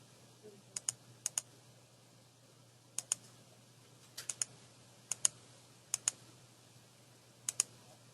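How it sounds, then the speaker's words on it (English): Sharp, quiet click pairs from a computer mouse button, sounding in about seven double bursts spread evenly over a faint steady hum, with no voice present. "you can minimize this by clicking this button"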